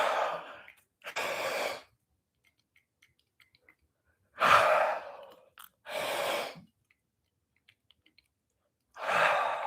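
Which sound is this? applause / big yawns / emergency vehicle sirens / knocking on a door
big yawns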